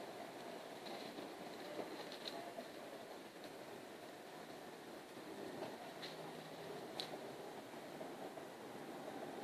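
A train on the Brighton main line at Brockley recedes into the distance, a steady faint rumble of wheels on rails with occasional light clicks and squeaks, no voices.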